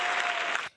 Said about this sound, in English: again, round of applause